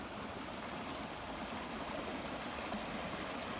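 Creek water at Castalia rushes in a steady, broadband wash, continuous and even without pauses, with no voices over it.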